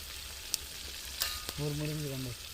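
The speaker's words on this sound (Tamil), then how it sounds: "நண்டு வறுவல் ஆகிட்டே இருக்குது" Crab fry sizzling steadily in a pan, a continuous close hiss with a few sharp clicks and a brief tonal squeal partway through.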